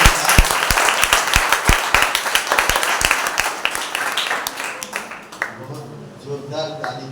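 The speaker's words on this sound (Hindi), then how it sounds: "जोरदार ताली था, अच्छा लगा।" Church audience at a Sunday service breaks into loud, dense applause welcoming a pastor, claps crowding together before thinning out and fading toward the end.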